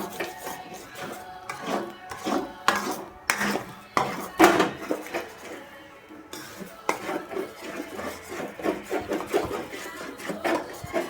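A utensil scrapes and clinks against a steel pan while egg bhurji is stirred, making repeated close metallic knocks and rasping strokes in an uneven rhythm, with a brief pause midway.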